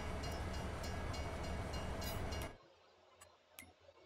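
A train in Farming Simulator 22 rumbles loudly and steadily with a clicking, rattling texture, then cuts off abruptly after about two and a half seconds. A few faint ticks and clunks follow in near silence.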